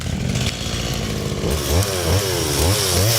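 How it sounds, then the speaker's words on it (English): A chainsaw roars steadily, then its pitch rises and falls in repeated surges as it bites into storm-felled trees, loud and close. "In Hickory, Kelly Sims spent much of the day sawing fallen trees after they uprooted"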